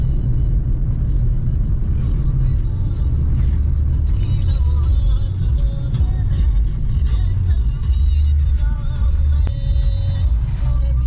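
A car driving along a village road gives a steady, close engine rumble and road noise throughout, with a few faint higher sounds on top and no clear talk.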